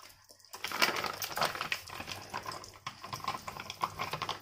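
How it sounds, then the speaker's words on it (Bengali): Desi ghee pours into a pan for frying gulab jamun, a soft liquid splash and trickle that starts after a brief quiet beat, with small clinks and faint crackles as it settles, heard up close at low volume. "ঘি ঢেলে দিলাম"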